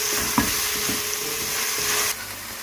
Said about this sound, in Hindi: इसको डालने के बाद हम थोड़ा सा इसको ऐसे फ्राई करेंगे चिकन को।